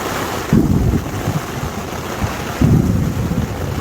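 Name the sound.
thunderstorm with rain and wind on a mountain peak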